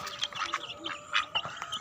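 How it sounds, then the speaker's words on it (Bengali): Native ducks quack in short, quiet bursts on a small farm while they eat feed mixed with rice bran. "দেখেন আমাদের দেশি হাঁসগুলো কীভাবে খাইতেছে"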